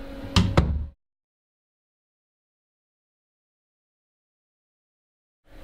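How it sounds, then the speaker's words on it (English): A door closing with a short rattle and two sharp knocks of the latch striking shut, close and loud, followed by near silence. "Let me just close the door and..."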